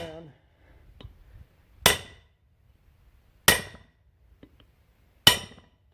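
Wheel studs hammered into the front rotor hub of an older 4x4: three loud, sharp metallic strikes spaced well apart, each ringing briefly before fading, with faint clinks in between.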